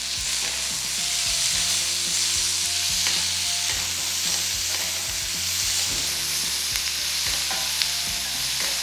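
Vegetable masala mixture sautéing in a pan, a steady close sizzle of frying with repeated scraping and stirring strokes across the pan, continuous for the whole stretch with no talking.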